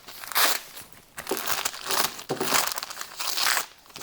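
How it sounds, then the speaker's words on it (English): Paper backing is torn away from the underside of freshly sewn stitches in four close crinkly bursts, each a papery rip and crumple separated by brief pauses. "So you remove the paper"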